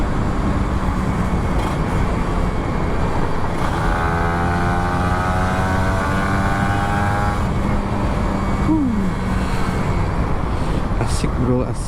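Kawasaki Ninja RR 150, an older two-stroke sport motorcycle, revving at full throttle on a long road, a steady loud engine drone with rising gear-shift sweeps, heard close with wind noise throughout.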